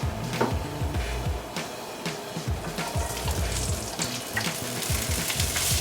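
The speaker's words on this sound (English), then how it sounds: "we have reached fragrancy, so we're going to add our beans" Beans dropped into a hot pan of fragrant toasted spices while cooking spice-rubbed pork, giving a loud, steady sizzle and crackle of frying with clattering stirring throughout.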